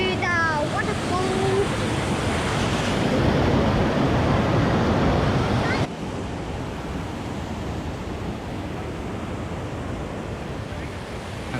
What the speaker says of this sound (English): I'm gonna show you the waterfall